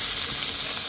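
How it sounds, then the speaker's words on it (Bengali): Foli fish frying in a pan, a dense, loud, continuous hiss of sizzling oil heard close up in a short burst with no voices. "তো চলো মাছটাকে আমি আগে ভেজে নেই"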